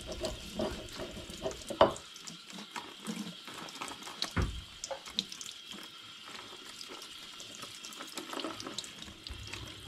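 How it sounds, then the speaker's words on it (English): Hot tap water running into a sink while a scourer scrubs label glue off a glass brewing bottle, with splashing, rubbing and a few sharp glass knocks up close and no talking. "the glue on here then needs washing off under the tap"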